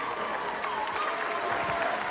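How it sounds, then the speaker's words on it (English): Steady applause from a live audience for the Emotions at a Motown stage show, with faint whoops and voices woven into the clapping. "Please give a round of applause for the Emotions."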